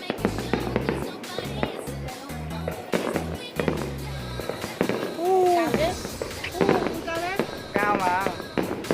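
New Year's Eve fireworks burst over Hoàng Su Phì in Hà Giang: rapid thumping blasts and crackles, with whistling rockets rising later, under a voice talking nearby.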